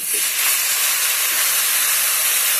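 A loud, steady hiss of steam bursts up as a little water hits masala frying in a hot pan, filling the whole moment with broad, continuous sizzling and no voices.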